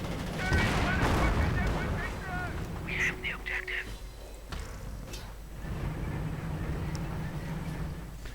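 Assault rifle fire in a real-time strategy game of World War II commandos against assault grenadiers or panzergrenadiers: bursts of gunshots and battle noise at moderate level, with a commentator talking over them.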